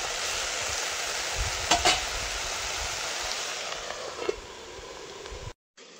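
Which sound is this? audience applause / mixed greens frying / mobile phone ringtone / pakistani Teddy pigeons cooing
mixed greens frying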